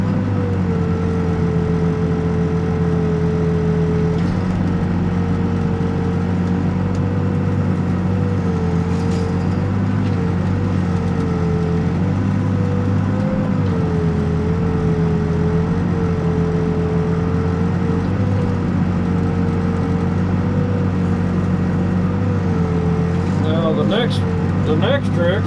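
Backhoe engine runs steadily throughout while digging a big hole, a continuous low diesel drone with a wavering tone, fairly close, with a voice talking over it.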